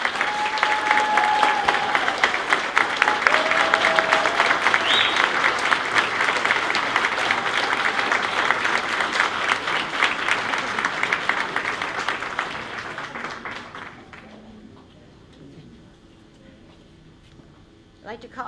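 An audience at a Sports Wall of Fame induction ceremony claps for the inductees, a dense, loud, continuous roar of applause for about thirteen seconds that then fades to scattered claps and quiet room noise.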